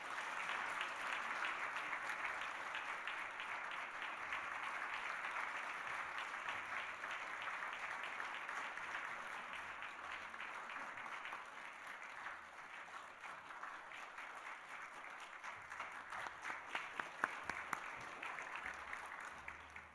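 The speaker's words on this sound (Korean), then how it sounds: "우리 큰 박수로 축하하겠습니다." A church congregation applauds steadily, a dense sustained wash of clapping from many hands that fills the room, loud and continuous, slowly thinning toward the end with a few sharper individual claps standing out.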